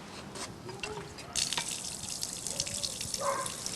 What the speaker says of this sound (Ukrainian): Побігла вода.